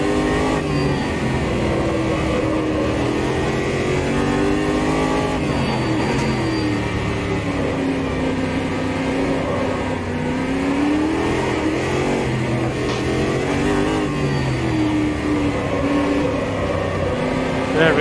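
A race car engine in the Automobilista 2 racing simulator drones and revs continuously and loudly, pitch rising and falling with shifts and throttle changes throughout, while someone talks over it.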